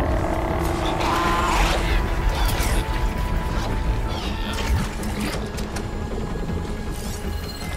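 Robotic machine creatures in the Horizon video game clank, creak and whir in a dense, loud mechanical layer, with metallic clatters and crashes throughout and no talk.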